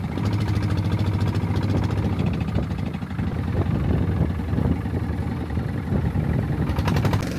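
A boat's engine drones steadily on the crossing to Koh Adang in Thailand, mixed with wind buffeting the microphone and rushing water, loud and continuous throughout.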